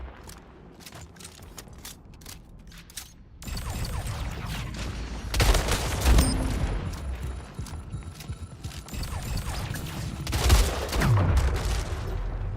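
Rapid gunfire bursts from the online shooter Splitgate crackle in quick volleys, with a quieter opening stretch before sustained loud firing, booming impacts and mechanical clatter fill the mix.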